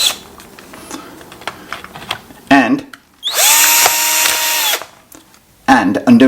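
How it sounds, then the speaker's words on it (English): Cordless drill fitted with a hex socket spinning off RC car wheel nuts, with loud bursts of high-pitched whirring and a ratcheting buzz, one long run in the middle and shorter bursts around it, close by. "fit in a hex socket to a cordless drill like this"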